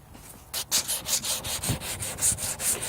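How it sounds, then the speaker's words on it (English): Rhythmic back-and-forth scraping of coarse P80 sandpaper on hardened resin over a surfboard rail ding, close and steady, about a dozen strokes in quick succession. "I'm going to start to sand it back"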